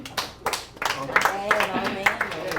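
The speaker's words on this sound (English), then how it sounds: "Let's hear it by applause if you or your family served as a Marine." Clapping from a show audience responding for Marine veterans and their families, uneven individual claps over a murmur of voices and some talk.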